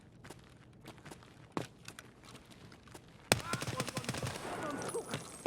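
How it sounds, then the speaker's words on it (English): Gunfire from the video game Escape from Tarkov, fired at scavs: scattered single shots and short bursts, then a louder, denser volley of rapid automatic fire near the end. "Pretty bad shooting there, but it got the scav to clear out"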